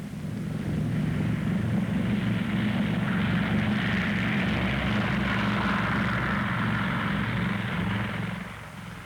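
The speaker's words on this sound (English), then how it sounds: "Close behind came the second plane with the observers and measuring instruments." A propeller plane carrying observers and measuring instruments drones steadily overhead, a loud continuous engine roar with a broad airy wash, fading slightly at the end; no talking.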